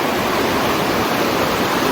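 Steady rushing water of the Garonne river, a loud, dense, unbroken roar with no pauses and no voices.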